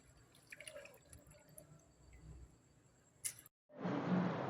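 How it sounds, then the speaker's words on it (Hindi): Water from a kitchen tap gushes loudly into a bottle near the end, a sudden broadband rush after a brief silence, preceded by quieter clinks and handling sounds. "बाकी बोतल अभी नल से भर लूँगी।"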